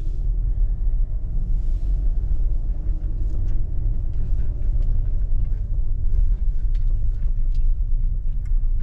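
A car drives on through Koskuduk village, a station settlement in Almaty Region, Kazakhstan, in 2023, giving a steady, loud low engine and road rumble that continues without break and without talk.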